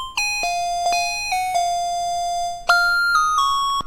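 A bright synth lead with mono switched off plays a short melodic line, so each new note overlaps the ringing tail of the last. The bell-like tones stand close and clear with no talk.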